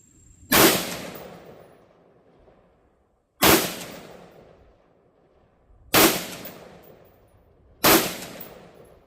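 Four loud, sharp rifle shots, fired through a Vector Optics Sentinel 10-40x50 scope, crack one at a time at intervals of roughly two to three seconds, each followed by a short decaying echo, with no talking.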